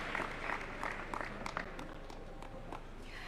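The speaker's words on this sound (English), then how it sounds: "A better round of applause, please, for them." Scattered applause from an audience for a panel at a national conversation event in a conference centre in Nairobi, with individual claps standing out over a low, roomy background.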